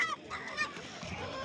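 Roosters at a poultry market in Sungurlu, Çorum honk and crow among a busy background of birds, a brief noisy burst of fowl calls close by.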